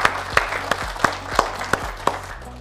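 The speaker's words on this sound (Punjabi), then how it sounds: "ਸੋ ਤਾੜੀਆਂ ਹੋ ਜਾਣ ਜੀ ਸਾਡੇ ਸਾਰੇ ਸਪੋਂਸਰਸ ਦੇ ਲਈ।" A small group claps in a loose rhythm for the sponsors at the grand finale of a Punjabi cooking competition, a few distinct claps about three per second over a low room background.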